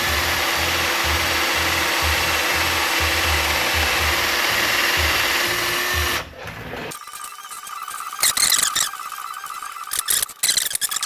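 A drill bit bores into an aluminum bolt on a Honda lawn mower muffler, a steady close motor whir with a pulsing low churn for about six seconds, then cutting off into quieter clicks and handling noises.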